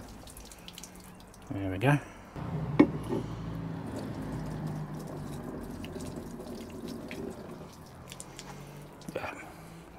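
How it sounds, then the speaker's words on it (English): Water trickles steadily out of the drain holes of a motorhome, a soft continuous flow with a few drips, after a brief voice and some handling clunks near the start. "I think it's a good idea just to check that these holes do actually drain out."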